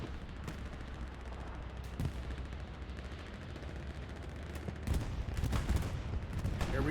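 Gunfire and tank combat in the video game Hell Let Loose on the Mortain map, with tanks and SPA artillery in action: a steady low rumble with scattered distant shots and heavier bursts of fire building toward the end.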